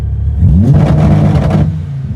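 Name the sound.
Viper engine revving on launch control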